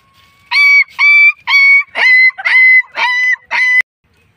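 A man imitates a small puppy's yelp, giving seven rapid, loud, high-pitched whining yelps in even rhythm close to the microphone, then stops abruptly.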